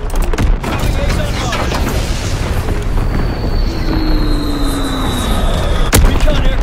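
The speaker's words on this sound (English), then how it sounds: "Azon bomb mission underway" A guided Azon bomb dropping and exploding in a war video game, heard as a loud continuous rumble of booms with a falling whistle midway and a sharp blast near the end.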